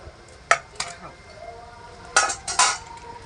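People eat fried puti fish from plates: a few sharp clinks of utensils on dishes, in two pairs of quick taps separated by a quiet pause.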